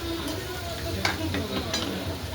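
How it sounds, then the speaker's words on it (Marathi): A soybean vegetable biryani mixture fries in hot oil with a soft, steady sizzle, punctuated by a few light stirring scrapes of a utensil against the pan. "थोडंसं फ्राय करायचं आपल्याला"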